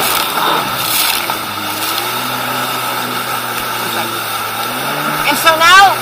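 A stand-up jet ski engine runs at speed on wavy water, a steady droning whine that rises and shifts pitch, close and loud throughout with a brief surge near the end.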